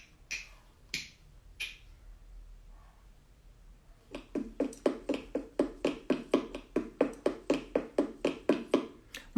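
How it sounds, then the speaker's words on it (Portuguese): Footsteps of a person walking: a few isolated taps, then a steady, quick series of sharp, close footfalls with no talking. "Uma pessoa andando."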